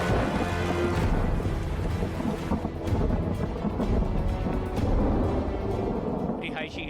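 Heavy rain pours steadily with low rumbling during flooding in a county of Sichuan province, China, a dense continuous roar that stays loud throughout.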